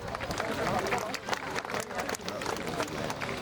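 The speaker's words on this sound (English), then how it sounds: "Let us give him a round of applause." Audience applause at an Onam festival lamp-lighting inauguration in Bendigo, a dense burst of clapping with crowd murmur, moderately loud and sustained.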